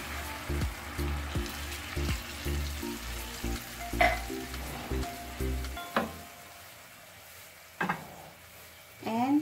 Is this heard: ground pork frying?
yes